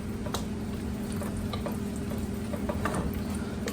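A pan of keto mac and cheese being stirred after salt goes in, with a steady soft sizzle and faint scraping under a constant background hum.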